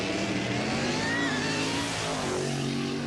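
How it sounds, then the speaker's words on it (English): A funny car engine at the 1988 All Aussie Funny Car Challenge drag race roars continuously as it accelerates down the track, loud and sustained with a steady, dense drone and no talk over it. "engine sounding more and more horsepower as he heads towards the finish line"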